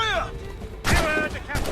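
Musket volleys crack out in the Assassin's Creed Rogue video game, with a sharp burst of gunfire followed by a second shot over a background of whistling tones and game sound.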